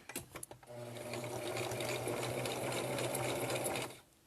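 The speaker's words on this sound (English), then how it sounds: "I'm going to sew all the way to the end." Sewing machine stitching a fleece hat runs steadily for over three seconds at a close, even hum, after a few short starting bursts, then stops.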